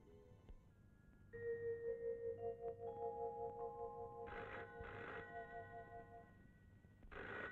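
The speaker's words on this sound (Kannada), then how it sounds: "ಫೋನ್ ಹುಡ್ಕೋತಾ ಇದೆ ಯಾರು ಅಂತ ನೋಡೆ" An old telephone rings in a Kannada feature film, a faint, steady bell tone with rising sustained pitches and a few brief bursts of louder ringing, heard over a soft background hum without speech.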